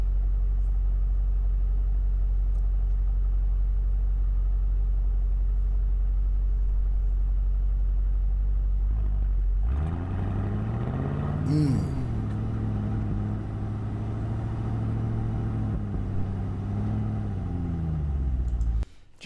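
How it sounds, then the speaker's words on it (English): A 2026 Aston Martin Vantage S pulls away, its engine suddenly swelling from a low idle into a loud, deep exhaust rumble with a brief rising rev midway, then holding a steady, close, throaty drone. "He ain't even get out the spot yet, and that rumble is crazy."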